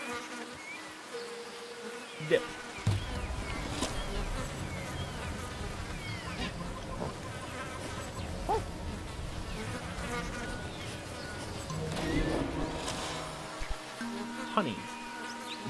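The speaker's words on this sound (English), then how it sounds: "I hate bees." Bees buzzing in the video game Ancestors: The Humankind Odyssey, a continuous dense insect drone with passing buzzes and a few clicks and thumps, under a brief spoken word.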